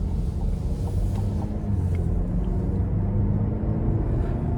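Steady low engine and road rumble from inside a 2026 Buick Envision Preferred AWD with a 2-liter turbo four and 9-speed automatic, cruising at an even level with no talking.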